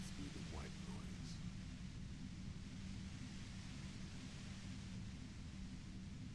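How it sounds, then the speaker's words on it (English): A steady hiss of white noise from the video game Disco Elysium fills the whole stretch evenly, dense and unbroken, with a faint low rumble underneath. "You hear through the white noise."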